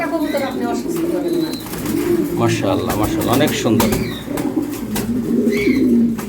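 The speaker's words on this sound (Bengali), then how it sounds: "এটা কি কবুতর আপা? লক্ষা কবুতর, তাই না আপা?" Lakkha pigeons at a pigeon farm coo in repeated soft, throaty rolls close by, mixed with a few chirps. A person speaks over and between the calls.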